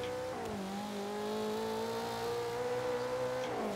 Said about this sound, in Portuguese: O cara tá acelerando fundo, mano